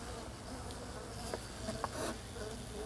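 A swarm of honey bees at an apiary gives off a faint, steady buzzing drone, with a few individual bees passing nearer, recorded outdoors at low level.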